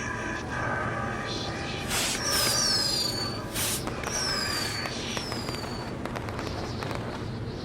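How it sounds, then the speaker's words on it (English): Fireworks go off in the video game WWE 2K20: several whistling rockets rise in pitch, mixed with sharp crackling bursts and pops, fairly loud over a steady background rumble. "we'll get to see some cool fireworks"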